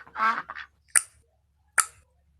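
Newly hatched ducklings in a storybook telling of the ugly duckling give a short burst of soft quacking, then two brief sharp calls follow after pauses, fairly close and moderately quiet.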